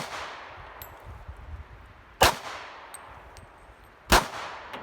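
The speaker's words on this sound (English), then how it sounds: "He's hitting the little spinner." A .45 ACP handgun fires twice at a small steel spinner target, each shot a sharp crack with a bright metallic clang, about two seconds apart outdoors, with no voices.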